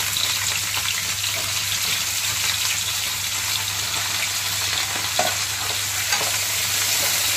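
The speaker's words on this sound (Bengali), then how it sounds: "আলুগুলো ফ্রাই প্যানের মধ্যে দিয়ে দিলাম। এবার একটু লাল লাল করে আলুগুলোকে ভেজে নেব।" Cut potatoes frying in a pan with a tempering of dried chilli and bay leaf, a steady close sizzle with occasional stirring scrapes, no talking.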